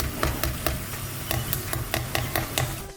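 Oven-roasted pork rind crackling, cooked about 45 minutes at 220 Celsius, gives off a steady hiss broken by a string of sharp, crisp pops and crackles at irregular intervals, close and alone.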